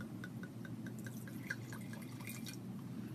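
Red wine poured into a glass, a faint, brief trickle and drip-like splashes over a quiet room hum, with no speech.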